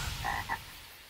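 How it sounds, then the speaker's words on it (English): Frogs in the Chuggington cartoon give two quick croaks, the first longer and the second short, over a soft background hum with no speech. "Frogs!"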